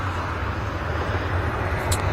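A Ryanair Boeing 737-800 departs Manchester Airport bound for Cologne, a steady, fairly distant jet engine roar rumbling throughout.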